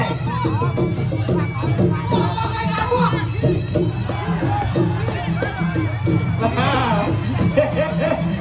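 Spectators at a Kun Khmer boxing match cheer and shout in a continuous loud crowd roar, with an announcer talking over the noise.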